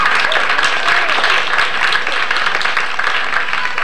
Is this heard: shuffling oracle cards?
no